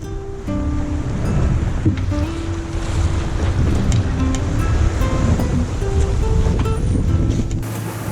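Wind and waves aboard a sailboat at sea, a constant loud rush of wind across the microphone over surging water and sloshing hull sounds, with occasional creaks and tones from the boat.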